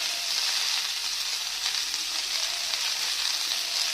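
Potato, eggplant and cauliflower frying together in a pan, a steady, bright hiss of sizzling oil that stays even throughout with no voices.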